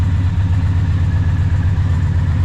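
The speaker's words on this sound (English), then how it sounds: "Okay, she's got a little bit more rumble to it." Indian Challenger motorcycle engine fitted with a Freedom Performance exhaust, idling with a steady, deep, throaty rumble, loud and close, with no talk over it.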